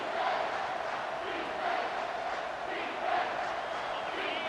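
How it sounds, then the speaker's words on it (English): Home crowd at a football game roars steadily during a third-down defensive stand, a dense, distant wash of cheering and yelling that swells in waves throughout. "Here comes this home crowd as the defense tries to get off the field on 3rd down"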